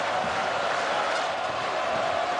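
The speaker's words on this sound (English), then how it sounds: "Susic leads the applause." A football stadium crowd applauds and cheers a goal at a World Cup qualifier, a dense, steady roar of clapping and voices filling the whole stretch without pause.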